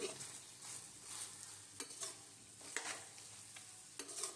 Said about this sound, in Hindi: यहाँ पर अब हम इसकी अच्छे से मिक्सिंग कर देंगे।